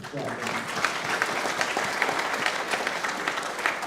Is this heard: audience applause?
yes